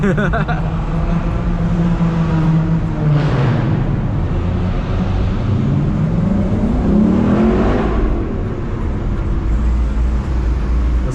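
A Lexus LC500's engine drones loudly from inside the car, with two rev swells that rise and fall over a constant low rumble, without pauses.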